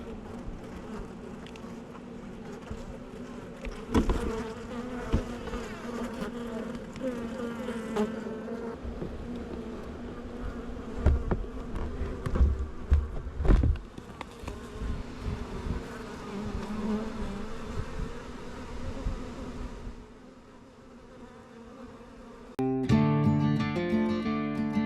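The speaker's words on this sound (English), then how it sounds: "I'm gonna put the bees inside of the brood box so they can start doing their thing." Honey bees from a nuc being installed into a hive brood box on a hobby farm in early June give off a dense, continuous buzzing swarm hum. Knocks and handling bumps run through it, and clear harmonic whines come near the end.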